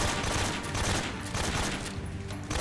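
Dense automatic gunfire from the Metal Gear Solid video game, a loud sustained fusillade of rapid shots during an alert firefight with no pause across the short burst.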